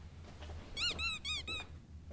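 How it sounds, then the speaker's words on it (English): A squeaky toy being squeezed repeatedly, four bright rubbery squeaks in quick succession, close and clear over a low steady hum. "No, don't squeak your toy"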